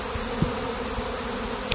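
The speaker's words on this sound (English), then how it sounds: "You can see here there's a bee on my thumb, and they're really not interested in anything I got going on." A honey bee swarm clustered in a tree gives off a steady, close, dense buzzing, with a few individual bees passing louder near the listener.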